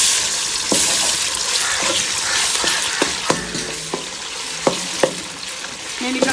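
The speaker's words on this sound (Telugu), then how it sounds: "చూడు, అల్లం వెల్లుల్లిపాయ పేస్ట్ వేస్తున్నా." Ginger garlic paste sizzles in a pan with mutton boti, a loud steady frying hiss broken by sharp clinks and scrapes as it is stirred, with no talking.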